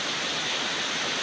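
Water flowing down from above into a spring, a constant broadband rushing hiss that stays even and close throughout, with no voices.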